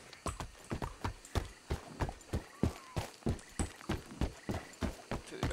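Steady, rhythmic clip-clop of horse hooves trotting at an even pace, fairly close and clear, with a faint background hiss.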